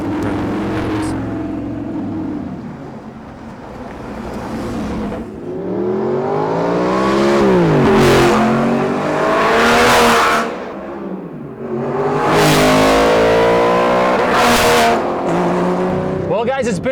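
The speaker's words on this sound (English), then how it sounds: "we went for a little drive out front of the shop to see how they sounded and to compare the V6 to the V8" An Audi R8 V8 and a Porsche GT4 V6, both fitted with custom exhausts, rev and accelerate loudly outside a shop, their engine notes rising and falling through several pulls, with some talk mixed in.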